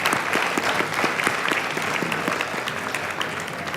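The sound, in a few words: audience applause for panelists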